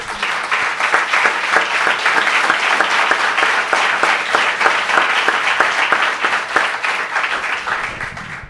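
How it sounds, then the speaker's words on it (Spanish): Loud, sustained applause from a church congregation during a sermon, a thick even wash of many hands clapping that stays strong for several seconds before fading at the close. "démosle un aplauso"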